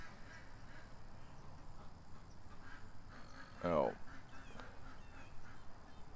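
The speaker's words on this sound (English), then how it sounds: "I guess some short bus ducks having a problem" A duck gives a short burst of quacking against a low outdoor rumble of distant highway traffic, with a voice faintly heard nearby.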